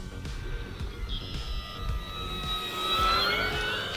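Model airplane making a low pass, its engine whine rising and sliding in pitch as it approaches and goes by, steady and fairly loud over outdoor noise.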